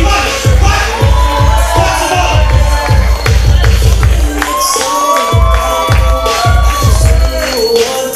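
Comedy show audience cheering and clapping at a live stand-up set, the crowd noise sitting under loud music with a heavy, steady thumping beat throughout.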